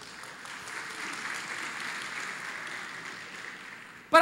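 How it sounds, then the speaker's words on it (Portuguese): Audience clapping in a church service, a steady moderate applause from a crowd that holds for about four seconds before cutting off abruptly. "Quando eu toquei no assunto futebol, bateram palma."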